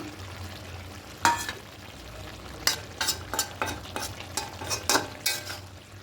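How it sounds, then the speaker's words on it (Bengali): Prawns being stirred together with potato and spinach in a pan, a spoon scraping and tossing in a series of sharp bursts over a low steady simmer, close and fairly loud with no talking. "খুব ভালো করে মিশিয়ে নেব"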